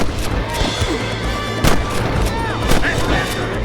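Gunfire in the video game Red Dead Redemption: a few loud, sharp gunshots crack over a rumbling background, with voices shouting nearby.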